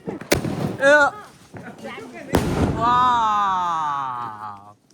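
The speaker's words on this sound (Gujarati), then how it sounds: "જો બીજો વાગ્યો અમારો ફટાકડો" Two sharp firecracker bangs burst out a couple of seconds apart during Diwali celebrations at home, each a loud close crack, with people talking and calling out between and after the blasts.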